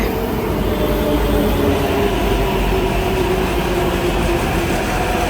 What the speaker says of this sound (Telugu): మెట్రో వస్తుంది.